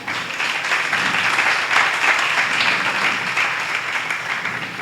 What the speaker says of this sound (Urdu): خدا ان کے کلام کے لیے ایک دفعہ پھر زوردار تالیاں